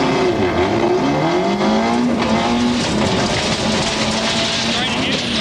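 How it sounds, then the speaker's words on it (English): A Mazda GTR rally car in a 1993 New Zealand national rally, on a short stage outside Palmerston North, drives with a steady engine drone whose pitch rises and dips across gear changes under constant road noise. "First off the ramp and on the road to the opening stage was the unlucky defending National Rally champion Neil Allport in his new Mazda GTR."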